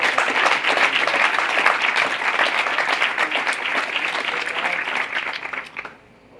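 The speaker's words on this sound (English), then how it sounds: "so give yourselves a round of applause" A crowd at a national championship awards ceremony for racers claps loudly and steadily, the applause thinning out and stopping near the end.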